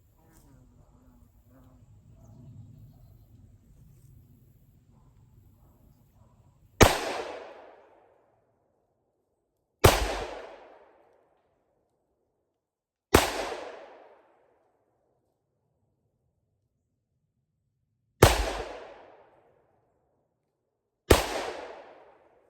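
A Ruger SP101 or Taurus 605 revolver is fired at a target from 7 yards: five loud, sharp shots with ringing decay, spaced a few seconds apart, after some quiet low talk.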